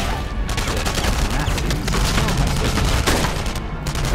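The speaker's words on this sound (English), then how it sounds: "why are they shooting directly at me?" Dense, continuous gunfire crackles in the video game Enemy Front, a loud sustained fusillade of overlapping shots and booms filling the whole stretch, with little else audible.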